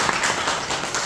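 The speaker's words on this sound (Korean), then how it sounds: "박수 한번 쳐주세요." A room full of people applauding for a colleague at a Korean business training session, steady dense clapping that carries on evenly through the moment with no talk over it.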